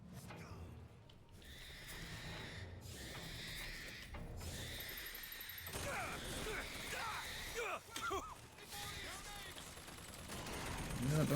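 Gunfire in Bioshock Infinite rattles in scattered bursts of shots amid game noise, fairly faint overall, with voices speaking over it.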